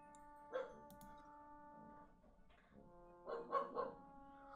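A dog barks in the Hiveswap video game, a few yapping barks with a short one early and a quick cluster near the end, sounding over a steady tonal game music bed.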